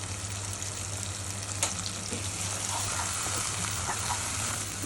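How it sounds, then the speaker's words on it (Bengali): Spice paste with a little turmeric fries in a pan for a dried kachki fish bhuna, making a continuous close sizzle over a low steady hum, with no talking. "ভালো করে একটু মশলাটা কষিয়ে নিতে হবে, যদিও ভাজা, কিন্তু এক্ষেত্রে আরেকটু সুন্দর করে ভেজে নিতে হবে।"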